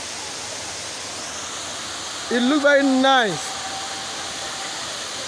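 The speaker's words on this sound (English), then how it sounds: "I know the Kintampo waterfall. Very beautiful area." The Kintampo waterfall gives a constant broadband roar throughout, while someone speaks briefly over it midway.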